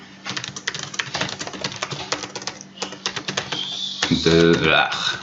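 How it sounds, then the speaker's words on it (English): Rapid, irregular clicking of fingers typing on a computer keyboard, close and clear for about four seconds, then giving way to a brief tonal sound at the end. "You'll get better at typing, guaranteed, as you go through this."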